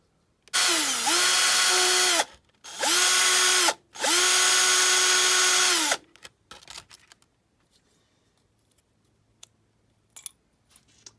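Three bursts of a power drill whine close by, rising to full speed and stopping, then scattered small knocks and clicks in a quiet room, drilling into a Matchbox VW Beetle diecast model during restoration.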